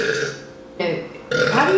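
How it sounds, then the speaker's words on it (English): Several loud, close burps follow one another in quick succession during a burping competition, each a raspy, drawn-out belch. "How do you judge a good burp?"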